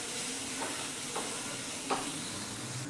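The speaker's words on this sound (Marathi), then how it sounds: "आता हे व्यवस्थित आपण मिक्स करून घेऊयात मसाले" Chilli powder and turmeric masala fry in a pan with an unbroken sizzling hiss, while a spoon scrapes through it a few times in soft, brief strokes.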